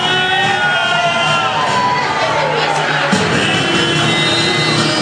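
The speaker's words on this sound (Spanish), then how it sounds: "pues un aplauso" Audience at a martial arts fakir magic illusion show cheering and shouting, with crowd noise and children's voices holding steady at a loud level throughout.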